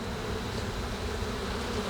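A steady, dense buzz of honey bees fills the air at an opened, defensive hive full of capped queen and swarm cells, loud and continuous with no talk.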